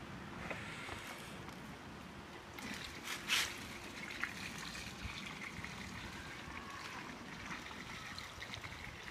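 Household bleach poured out of an open bottle while cleaning a freezer chest, a steady soft trickle and splash of liquid that runs continuously at moderate level, with a brief louder gurgle partway through.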